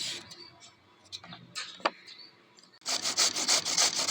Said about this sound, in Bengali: এই যে গাজরগুলোকে এরকমভাবে চেঁচে নেবো